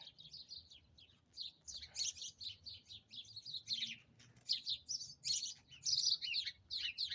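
Birds chirping in a garden tree, a steady stream of quick high tweets in repeating bursts, fairly near but soft, with a low rumble underneath and no talking.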